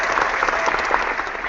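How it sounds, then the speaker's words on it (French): A crowd at a group business event claps, a brief, bright, dense patter of many hands at close range with no voices over it. "On donne une grosse main d'applaudissement à nos amis"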